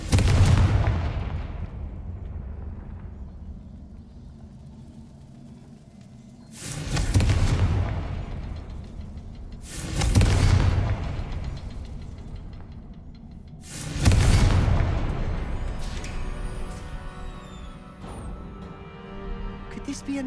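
Confringo fire spells explode in the game Hogwarts Legacy, four heavy booming blasts spaced a few seconds apart, each with a sharp onset and a rumbling decay, over a low ambient bed.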